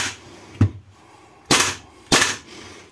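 WELL G74 gas blowback airsoft rifle firing single shots, three sharp close cracks spaced apart, the last two loud with a short hissing tail, and no voices.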